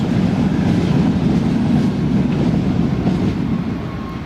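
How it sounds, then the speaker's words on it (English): A metro train rumbles past near Newcastle Airport, a steady loud roar with faint rail clatter that eases slightly toward the end. "you're going to hear a metro going past in just a second"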